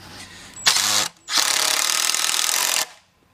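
A power drill drives Phillips number 3 screws into a Toja Grid pergola outdoors in two close, loud bursts: a short whir, a brief pause, then a longer steady run before it stops.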